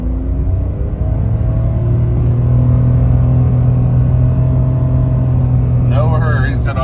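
A Mitsubishi car is floored at full throttle, its engine a loud, steady droning rumble heard from inside the cabin with a slowly rising tone, and a voice speaks briefly at the end.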